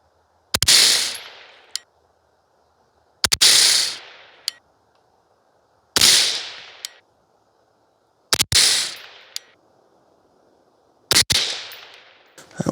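Five 5.56 rifle shots firing 69gr Sierra MatchKing loads with Varget powder ring out at a range, each a loud sharp crack with a lingering decay, spaced evenly about two and a half seconds apart with no talk.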